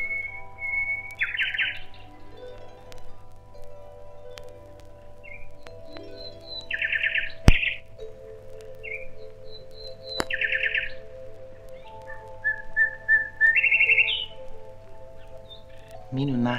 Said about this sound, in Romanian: Privighetoarea începu să cânte un cântec plin de gingășie